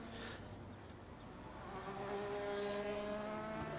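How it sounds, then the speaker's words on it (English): A washing machine makes an odd, buzzing whir that slowly rises in pitch. It is faint and distant, with no voices present. "washing machine. I don't know what it's doing. It sounds like it's possessed."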